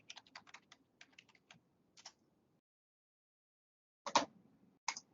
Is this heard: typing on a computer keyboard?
yes